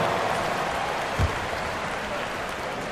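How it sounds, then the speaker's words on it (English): Arena crowd applause for the dancers at an NBA 2K24 basketball game, a dense, even wash of clapping and crowd noise throughout. "give them a round of applause"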